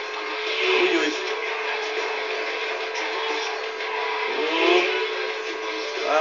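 Car engine from the racing game Midnight Club Los Angeles revs steadily through a street race and swells twice. Excited talk runs over it.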